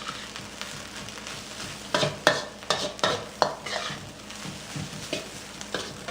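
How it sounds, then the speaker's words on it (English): Thai fried rice stirred in a pan over high heat: a soft background sizzle broken by irregular clattering scrapes and taps of the utensil against the pan, loudest in the middle stretch. "And I stir for about a minute."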